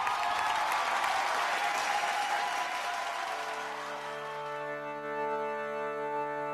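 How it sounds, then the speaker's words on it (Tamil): On a stage show, an audience bursts into loud, dense applause to welcome a performer, then fades as sustained musical tones from the band come in underneath. "நல்ல கைத்தட்டோட லெட்ஸ் வெல்கம்"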